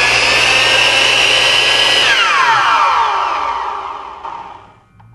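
4,000 RPM miter saw powered through a PowerBright PW2300 inverter, running with a loud high whine for about two seconds, then spinning down with a falling pitch that fades out.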